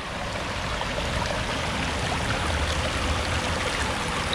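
River water flows steadily close by, a loud continuous rushing and gurgling that fills the whole moment without pause.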